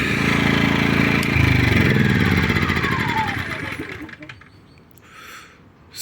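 A motor engine runs loudly at first, then is switched off and its rumble dies away over a few seconds, leaving quiet with a brief hiss near the end.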